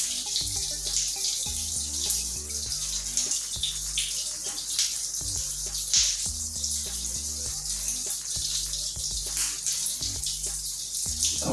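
Tap water runs steadily while a section of hair is washed under it, a close, continuous splashing gush with small irregular spatters and no voices.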